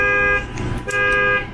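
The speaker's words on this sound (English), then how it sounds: "And you can hear the truck beeping now." A truck's electronic beeping sounds loud and close: two long, steady tonal beeps separated by a short gap, with engine rumble underneath and no talking.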